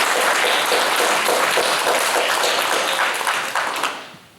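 A round of applause at a township board of supervisors meeting, loud and dense clapping from the room that holds steady for a few seconds and then trails off quickly.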